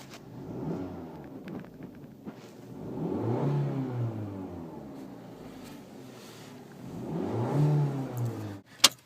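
A 2012 Fiat 500 engine heard from inside the car rises and falls in repeated revs, muffled and moderately loud, with a quieter idle between and a short sharp knock at the end.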